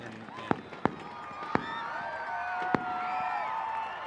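Fireworks bursting at the far end of a football field during a game: several sharp distant bangs over a steady crowd roar.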